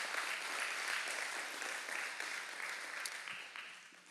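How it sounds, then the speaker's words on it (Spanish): Church congregation applauds during a Spanish-language morning service honoring fathers, a soft, distant wash of clapping that holds steady, then tapers off toward the end. "Den un aplauso al Señor por todos los papás que tenemos en esta mañana"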